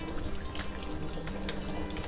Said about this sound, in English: And then we also need to make sure we rinse really thoroughly.